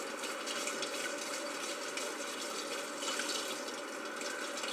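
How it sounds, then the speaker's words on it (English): Steady running water splashes continuously, a faucet-like stream pouring and rinsing sneakers without pause, close and fairly loud throughout. "now I'm going to rinse them with my water"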